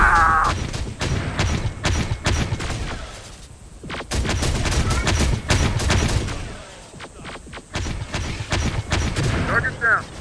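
Gunfire and explosions rage in the Terminator Dark Fate Defiance battle game, with dense bursts of shots, booming impacts and loud volleys packed together, while voices shout over the combat.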